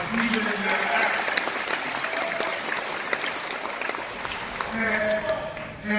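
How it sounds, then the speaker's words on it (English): Audience at an NAACP convention gives a steady round of applause, a dense sustained wash of clapping from a crowd with some voices mixed in. "Give them a round of applause, even in their absence"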